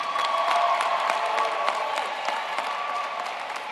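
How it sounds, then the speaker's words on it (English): An audience at a fall commencement ceremony bursts into dense, sustained applause that fills the hall evenly and tapers slightly toward the end. "Give her a round of applause."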